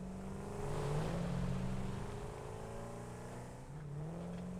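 A vehicle drives in Satisfactory, its engine droning and revving in rising and falling pitch sweeps, loud and close, with a steady road rumble underneath and no voices.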